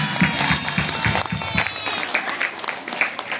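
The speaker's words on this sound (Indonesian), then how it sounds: "Tepuk tangan." An audience claps at the opening of a Maulid Nabi festival competition, a loose, moderately loud patter with a few sharper claps standing out.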